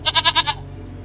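A goat bleats while being loaded onto a pickup truck, giving about five quick wavering calls in a row, close and fairly loud, before they fade into low rumbling background noise.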